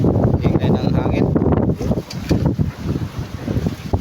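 Strong wind roars during a stormy day with only light rain, buffeting the microphone in a continuous loud, gusty rush that rises and dips without letup.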